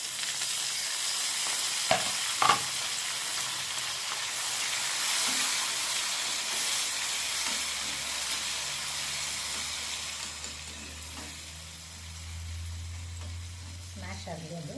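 Chopped tomato sizzles and hisses in a hot pan while being stirred, a steady close frying sound with a couple of sharp utensil knocks early on, settling into a softer simmer toward the end.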